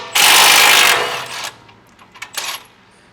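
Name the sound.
removing the 19 mm bottom strut bolt on a Tacoma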